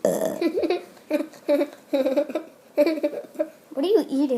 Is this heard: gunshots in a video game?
no